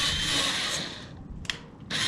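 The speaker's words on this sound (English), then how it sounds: "1/8 inch drill bit" Power drill with a 1/8 inch bit working during a kayak anchor trolley install, a close steady whirring hum that cuts out briefly and starts again.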